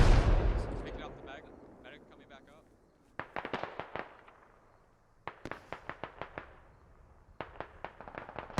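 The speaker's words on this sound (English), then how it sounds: "Kill Me Bears gets a nice nade off" Grenade blast in the tactical shooter Squad, a decaying rumble at the start followed by clusters of sharp distant gunshots and pops in a battlefield scene.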